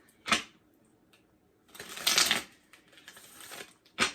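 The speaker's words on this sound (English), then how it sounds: "One more shuffle." Tarot cards are shuffled in a few quick, crisp bursts of riffling and flapping, close and fairly quiet, with short silent gaps between them and no talk.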